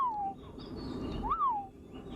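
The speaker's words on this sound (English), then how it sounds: "The bird's song, Kumi, the beginning of the song," A Burông Tité dove, kept by the Jawi of Southern Thailand, gives the opening part of its song as two clear cooing notes. The first slides downward, and the second rises and then falls after a short gap. A soft background murmur runs underneath.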